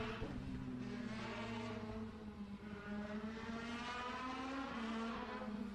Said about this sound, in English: he's swinging the car back and forth, revving it up, spinning them, trying to get some heat in them